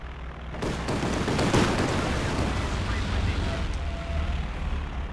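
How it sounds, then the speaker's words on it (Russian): Heavy rumbling air raid explosions and dense battlefield gunfire in the video game Company of Heroes 2 roar continuously, loud and booming, with a voice faintly mixed in beneath the din. "Нам сообщают об атаке с воздуха."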